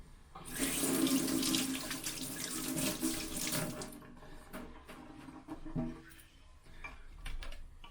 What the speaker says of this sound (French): il reste plus qu'à mettre l'eau